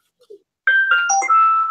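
A bright electronic notification chime announcing a livestream going live, a short rising sequence of clear tones ringing out loud and close after brief faint sounds, with no talking.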